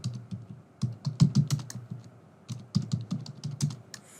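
Someone types a short entry on a computer keyboard in two quick bursts of clicking keystrokes, close and crisp, separated by a short pause, with no talk.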